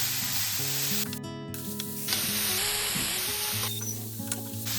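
Grated carrots for carrot halwa sauté in a pan with a steady close sizzle and frying crackle, while a few tonal hums and clinks sound underneath.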